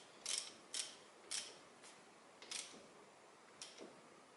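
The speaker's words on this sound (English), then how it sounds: "I can take my 14 millimeter this my socket, and I can fasten these bolts" A 14 mm socket ratchet tightening bolts gives a few sharp, close clicking bursts spaced irregularly, with quiet gaps between them and no voices.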